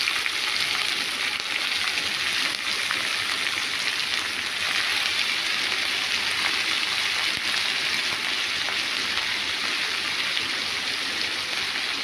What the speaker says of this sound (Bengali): বাঁধাকপিটা ভাজছি, ভেজে আলু একসাথে ভেজে হলুদ হলুদ দিয়ে জল দিয়ে দেবো,